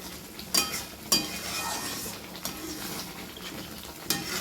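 Masala spices sizzle in a pan for palak paneer, a soft steady frying hiss broken by a few sharp clinks of a spoon stirring against the pan.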